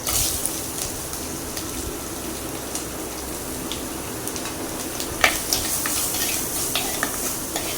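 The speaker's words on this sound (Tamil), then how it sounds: "வெங்காயம் வதங்கட்டும்" Onions sautéing in a pan for crab gravy give a steady, close broadband sizzle with occasional sharp clicks of a utensil stirring against the pan, continuous throughout with no talking.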